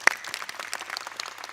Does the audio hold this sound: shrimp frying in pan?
no